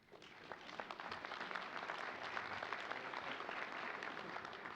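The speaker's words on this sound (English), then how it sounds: "Even Nancy's applauding, that's good." After a speech, an audience applauds with thick, sustained clapping that swells after a quick start and holds steady, many hands at moderate distance.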